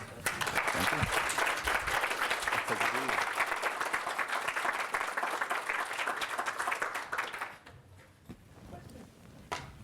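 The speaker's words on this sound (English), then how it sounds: "I'll give you a round of applause." An audience at an artist talk claps in a dense, sustained round of applause that fades after several seconds, leaving a few scattered claps and room noise.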